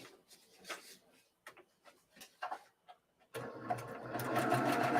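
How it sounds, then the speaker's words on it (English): A sewing machine stitches star flower quilt block pieces, starting with a few short stop-start bursts and light ticks, then running in a steady, louder whir close by for the final seconds. "so if I'm sewing on the line,"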